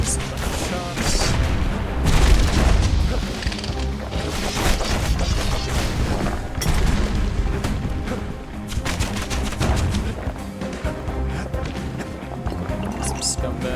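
Gunfire in the action game Bastion, repeated loud cracks and crashing impacts amid dense game sound and music, with a narrator's voice talking over much of it.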